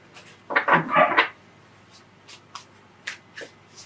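Large tarot cards being shuffled by hand: one dense burst of riffling and rustling, then several short soft card taps and slides, all close and alone with no talk.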